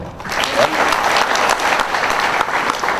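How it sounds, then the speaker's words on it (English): A crowd applauds steadily for a few seconds, dense clapping that stays fairly loud throughout without voices on top. "Round of applause anyway."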